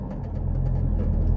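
Engine of a motorcycle or van running just after starting, a loud, steady low rumble close by with a faint rhythmic pulse on top and no talking.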